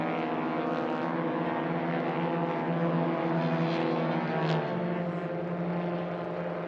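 STOL airplane powered by a Yamaha snowmobile engine roars off the line in a drag race at air races, a steady, buzzing propeller drone heard from a distance, with no talk.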